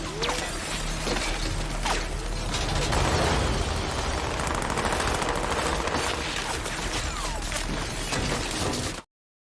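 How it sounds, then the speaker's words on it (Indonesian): Sustained gunfire in a film scene as shooters outside rain bullets on three people indoors, with dense overlapping bursts and rattling impacts, loud and continuous for about nine seconds before cutting off abruptly. "mereka bertiga pun terkejut sejadi-jadinya ketika dihujani tembakan dari luar."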